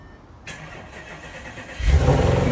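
An Audi RS4 B8 V8, bought at auction, cranks for a moment and then fires up, its engine catching with a loud, deep low rumble that settles into a strong idle, heard alone.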